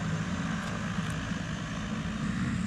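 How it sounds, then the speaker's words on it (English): A small propeller plane departs from the very short runway on Saba, its engine a loud, steady roar heard fairly close for the whole stretch, with no talking. "And here the plane is leaving again."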